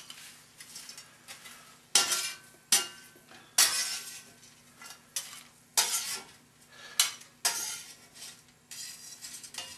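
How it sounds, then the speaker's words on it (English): Home fries are tipped back into a cast iron dish, giving repeated sharp scrapes and clinks in an uneven rhythm with a faint sizzle underneath, close and fairly loud, with no talking. "now I'm going to put them right back in the dish that they came out of"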